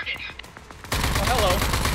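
Gunfire in the shooter game Rage 2 starts abruptly after a few quiet clicks and ticks, then becomes a loud, dense, continuous rattle of shots close by.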